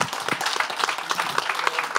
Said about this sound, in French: Je vais vous demander de faire encore un peu plus d'applaudissements pour Lison et Tania